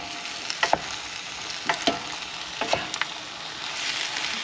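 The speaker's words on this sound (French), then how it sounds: "Et voilà, je remue." Food frying in a pan in a camper van kitchen, with a steady soft sizzle broken by a few sharp clusters of utensil scrapes and clinks as it is stirred.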